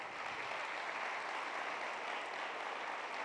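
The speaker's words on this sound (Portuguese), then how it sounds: "Uma salva de palmas para vocês." A church audience applauds the ministry team, a dense, even wash of many hands clapping together at steady volume from start to finish.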